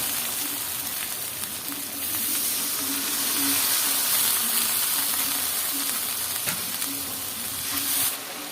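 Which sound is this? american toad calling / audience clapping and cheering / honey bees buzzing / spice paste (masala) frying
spice paste (masala) frying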